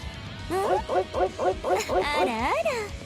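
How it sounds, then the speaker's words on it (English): A dog barking loudly in the background while someone plays a fighting game, a rapid series of about eight yapping barks ending in a drawn-out, whining howl. "the dog barking is really loud."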